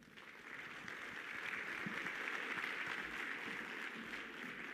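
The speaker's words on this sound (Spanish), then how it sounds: "lo vamos a recibir con un fuerte aplauso" Audience applause welcoming a speaker at a presentation on agricultural drone spraying. Sustained, fairly faint clapping from many hands holds steady throughout without voices.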